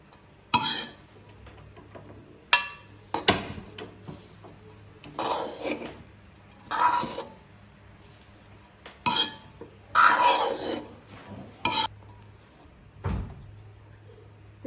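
Egg noodles being stirred in a home-kitchen pan with sauce added, producing a run of intermittent scraping and clattering utensil strokes against the pan, fairly close and moderately loud, with brief pauses between bursts and no talk.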